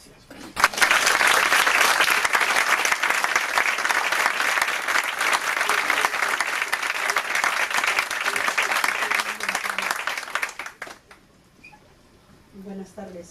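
Sustained applause from an audience at a writers' round-table, dense and steady for about ten seconds before fading, with a bit of room noise and voices after.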